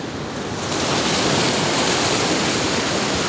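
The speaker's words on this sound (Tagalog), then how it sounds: "Lakas ng agos ng tubig." Loud, continuous roar of a strong water current after Typhoon Auring, swelling in the first second and then holding steady, close and dense like a strong current or surf.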